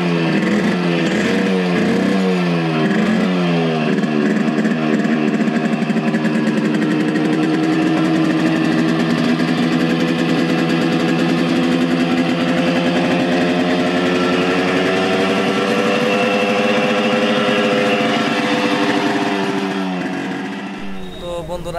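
A Yamaha RX100 two-stroke motorcycle engine runs close and loud, revving up and down at first, then holding a steady buzzing note for a long stretch before dropping away at the end.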